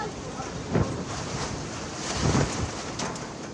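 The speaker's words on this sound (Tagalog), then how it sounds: "Dala ang matinding ulan at hangin." Typhoon winds lash Leyte during the storm's peak in the early hours, a roaring, buffeting gust noise with low rumbling surges and hissing, wind-battered texture throughout.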